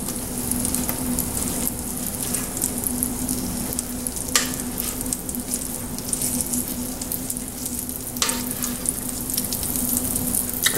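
Cornbread batter crackles and sizzles in a preheated, oiled skillet, a steady dense hiss with a few sharper pops and clinks, close and continuous, no talking.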